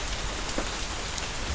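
Steady rain pattering on a surface outdoors, a continuous even hiss with no talk over it.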